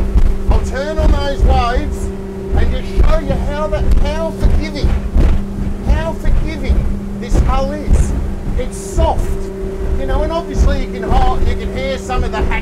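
An Evolution 600 enclosed boat powered by a Yamaha F250 outboard runs on the water at about 3,900 rpm, a loud steady engine drone with wind buffeting and hull slaps throughout.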